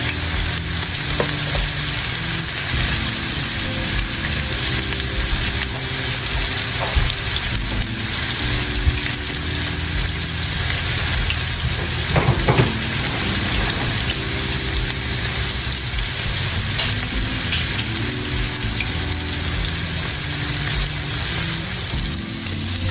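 Beef short ribs sear in a hot pan, crackling and sizzling steadily and up close, with occasional clinks and scrapes as the meat is moved around.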